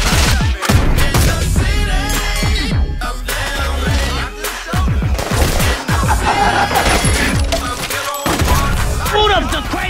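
Rapid bursts of gunfire in a comedy movie trailer, loud and dense with repeated shots, crashes and a few short gaps, mixed with voices talking over the shooting.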